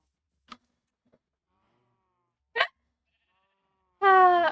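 Sheep and cows in a pen in Minecraft, with a few short isolated animal calls spaced apart over silence and a louder bleating call at the end.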